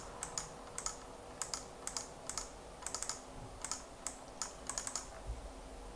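Typing on a computer keyboard, faint, quiet key clicks arriving in short irregular bursts with brief pauses between them, heard alone.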